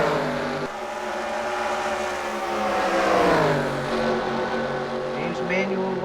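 Stock cars race in a video game heat race at Atlanta, engines droning and shifting pitch as they run in a pack, with a commentator talking continuously over the engine noise.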